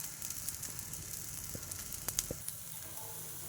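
Sweet potato bites roasting in ghee on a pan give a faint, steady sizzle with occasional small pops and crackles.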